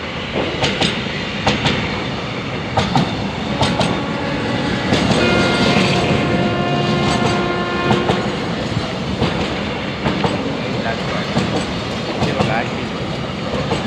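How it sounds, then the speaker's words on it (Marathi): A long train rolls past during a morning walk, its wheels beating out a steady clickety-clack with metallic screeches and a sustained horn-like tone, loud and close, while a person talks intermittently over it. "एवढी मोठी रेल्वे होती"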